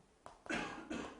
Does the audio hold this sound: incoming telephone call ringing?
no